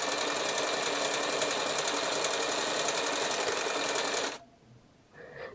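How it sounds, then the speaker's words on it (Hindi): A sewing machine runs steadily and loudly while stitching tucks on a yog patti blouse, then stops abruptly near the end, leaving a faint brief rattle. "यहाँ पे टक्स पक्की इस तरीके से जोड़"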